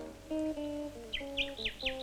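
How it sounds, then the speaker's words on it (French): A nightingale sings a series of clear whistled phrases, steady tones giving way to quick rising and falling chirps, close and fairly loud. "Écoute, c'est le rossignol."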